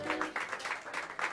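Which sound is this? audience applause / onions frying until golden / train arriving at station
audience applause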